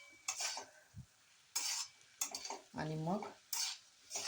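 Fenugreek greens are stir-fried in a pan over higher heat in a methi bhaji. A spatula scrapes and clatters against the metal in short separate bursts, and a voice speaks briefly between them.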